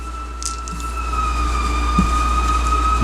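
A fire engine siren wails steadily and loud outdoors, its tone holding across the whole stretch with a faint rumble of traffic beneath, heard during a 1986 baseball All-Star Game broadcast.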